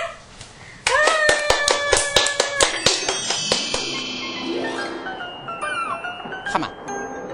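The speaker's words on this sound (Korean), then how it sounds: "우리 박수 쳐줄까?" Hand clapping in a children's cartoon scene, a lively burst of quick claps after a brief exclamation, the rhythm loosening toward the end, with light chimes and a rising cartoon tone mixed in.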